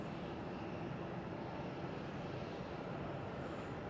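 Boeing 767 airliner climbing out of Houston's George Bush Intercontinental Airport, a continuous broad jet-engine roar, steady and fairly distant, with no voices.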